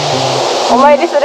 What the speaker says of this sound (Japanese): 初めてこの滝見たわ